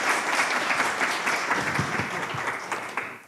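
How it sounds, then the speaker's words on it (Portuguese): Steady audience applause for a volunteer at a talk on fear of clowns, dense clapping sustained for a few seconds before fading at the end. "Palmas para ela, então."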